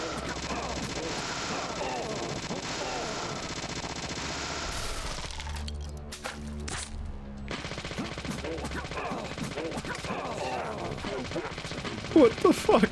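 Rapid gunfire in the Deadly Premonition video game as the player shoots at a creature, dense repeated shots over a loud sustained game soundtrack, pausing briefly midway before the firing resumes.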